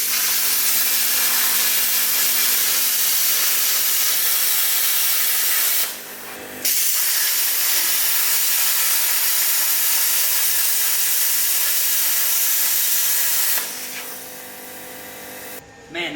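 A YESWELDER CT 2050 plasma cutter with built-in air compressor makes straight cuts along a guide, producing a loud, harsh, continuous hiss broken by two short pauses, with brief talk near the end.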